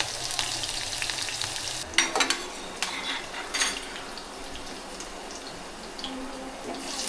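Green chillies sizzle in hot oil in a kadhai while kanda poha is being made, with a steady loud frying hiss and a few clinks of a spoon stirring the pan.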